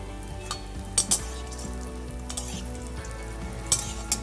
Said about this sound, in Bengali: বড়িগুলো খুব ছোট হওয়ার জন্য খুব তাড়াতাড়ি করেই বড়িটা ভাজা হয়ে যায়, 30 থেকে 40 সেকেন্ডের মধ্যে